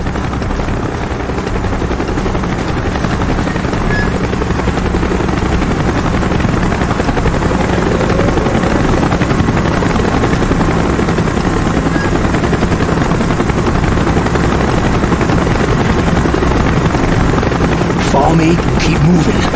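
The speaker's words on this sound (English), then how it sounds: "Chopper's inbound! Move it!" Helicopter arriving in the video game Call of Duty Black Ops: a loud, steady rotor roar fills the whole stretch, with gunfire and shouted voices mixed in.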